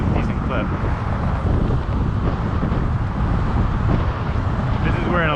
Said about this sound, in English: help you just cut through the wind like butter